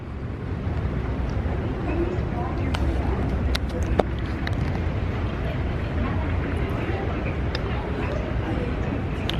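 A steady, loud broadband drone of an airliner cabin in flight from Japan to South Korea, a continuous engine and airflow rumble that holds level throughout with a few faint clicks on top.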